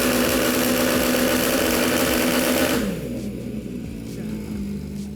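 MV Agusta Brutale 1000RR Assen Edition motorcycle engine held at a loud, steady high rev under launch control for about three seconds, then dropping to a lower, rougher idle with a faint mechanical whine.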